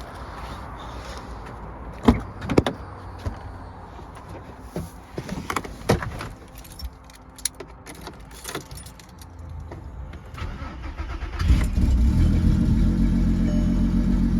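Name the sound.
car engine starting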